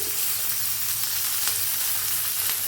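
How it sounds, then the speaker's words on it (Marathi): Peanuts, dried chillies and garlic roasting in a hot pan give off a loud, steady crackling sizzle, dense and close, with no voices. "मस्त भाजायला आले, कसा आवाज यायला आलाय, चट चट चट चट बघा।"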